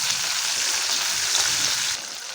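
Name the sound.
onions sautéing in a pan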